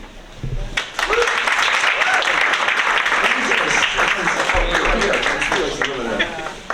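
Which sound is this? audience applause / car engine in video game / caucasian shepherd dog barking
audience applause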